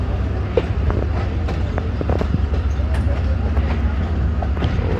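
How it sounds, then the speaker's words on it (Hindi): Karakoram Express 41 Up passenger train running along the rails through a curve, a steady loud low rumble of wheels and carriages with faint clicks on top, continuous throughout. "और पीछे देखें बिल्कुल कर्व लेते हुए हमारी 41 अप कराक्रम एक्सप्रेस"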